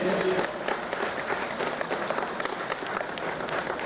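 Loud, thick applause from a crowd at a police colours award ceremony, a continuous wash of many hands clapping at once.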